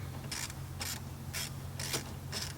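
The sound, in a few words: ratchet removing the last wiper motor bolt, 1991 Ford Ranger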